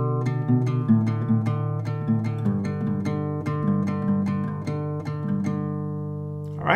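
Steady acoustic guitar strumming carries the verse of a song at standard tempo, with regular rhythmic strokes over sustained chords, close and clear, no voice.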